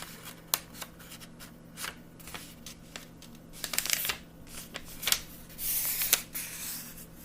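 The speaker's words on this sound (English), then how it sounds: "From there, you're going to fold it again the same way." Paper being creased and folded for an origami fish: close, crisp crinkles and sharp snaps come in irregular bursts, with a louder rustling swell near the end, over a quiet background.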